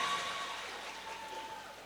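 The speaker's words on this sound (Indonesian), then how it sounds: "Tepuk tangannya dong," An audience at a Kartini performance event applauds steadily for nearly two seconds, a soft, even wash of many hands clapping at moderate distance, with a faint tone running underneath.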